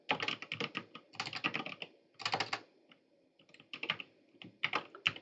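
Typing on a computer keyboard while entering month names into code, heard as close bursts of rapid key clicks separated by short pauses, with no voices.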